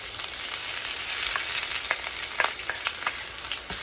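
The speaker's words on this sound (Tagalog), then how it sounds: "Sa kabilang pan, guys, mag-isa naman tayo ng bawang." Garlic sautés in a hot pan with a close, steady, bright sizzle dotted with small pops and crackles throughout.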